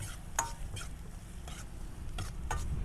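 Onion, ginger and green chilli stirred in a hot pan for a Manchurian recipe, giving a few distinct scraping strokes over a soft, steady sizzle, close and fairly quiet with no talking.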